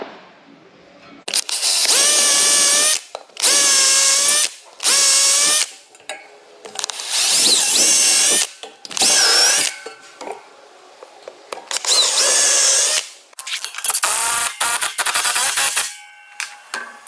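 Power drill driving a 3/8 lag bolt into a metal stair stringer for custom floating stairs, heard as a series of loud, close whirring bursts of one to two seconds each, separated by short pauses, with a final stretch of rattling.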